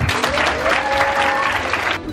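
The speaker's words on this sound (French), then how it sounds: "J'aimerais vraiment qu'on vous fasse un tonnerre d'applaudissements car vous le méritez." An audience applauds warmly in a hall, a dense, close burst of clapping with a faint voice or tone drifting through before it tapers off.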